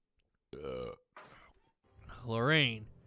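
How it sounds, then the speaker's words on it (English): A character in Telltale's Back to the Future game burps loudly twice, a short croak and then a longer drawn-out belch, each standing clear against silence. "He went to burp like that."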